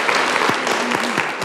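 A crowd at a graduation ceremony gives a new council member a round of applause, a dense, loud wash of clapping.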